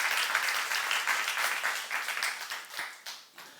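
A church youth congregation applauds during a sermon, steady dense clapping at moderate distance that thins and fades toward the end.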